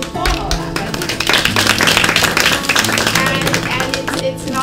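An audience in a New Jersey middle school applauds loudly and steadily, with a tonal hum and voices mixed into the clapping throughout.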